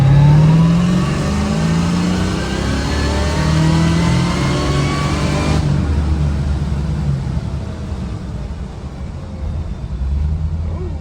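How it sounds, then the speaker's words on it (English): A car engine revs hard as it accelerates in third gear from about 20 to 30 mph, rising steadily in pitch for several seconds before easing off into a lower, rumbling drone. "here's a pull in third gear from probably like 20, 30 miles an hour"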